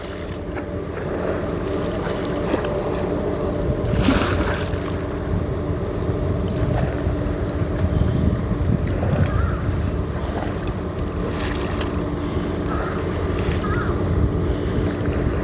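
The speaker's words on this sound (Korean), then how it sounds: "파도 소리가 부딪히는 소리." Sea waves wash against concrete steps by the water, with two training ships lying at anchor offshore, a continuous rolling surge mixed with wind noise and occasional stronger splashes.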